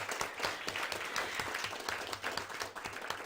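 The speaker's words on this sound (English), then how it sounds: "Let's give them a round of applause first." Sustained applause from a school board meeting audience, many hands clapping steadily and fairly close, a dense even roar of claps with no talking over it.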